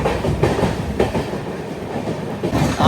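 The Charminar Express rushes along at high speed, giving a continuous loud rumble with rhythmic clickety-clack of wheels over rail joints, heard from inside the train.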